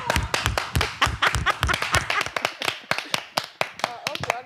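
Studio audience clapping in a French television show, a burst of brisk uneven hand claps from a smallish crowd, fairly close and alone for several seconds.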